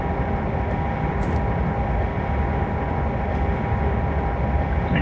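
Express train on a Hamburg to Hannover run in Train Simulator 2021, a steady loud rumbling drone of wheels and motors that holds evenly throughout with no pauses.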